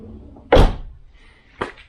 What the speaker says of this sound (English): That door works perfect.